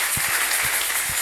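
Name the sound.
congregation applauding in church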